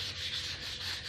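Brisk back-and-forth scrubbing on bathroom floor tiles to remove scale, a close, continuous rasping rub with a regular stroke rhythm and no talk.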